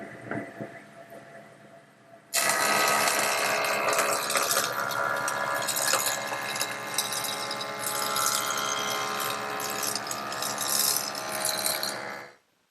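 A power saw rips through a wood board in a woodworking shop while building a drop leaf table, starting abruptly after a quiet moment and holding a loud, steady whine for about ten seconds before cutting off.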